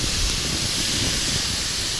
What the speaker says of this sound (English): you can see it boiling there